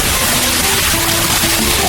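A bucket of water is dumped over a burning doll, giving a loud, continuous broadband splash and rush of water that fills the whole moment with no voices.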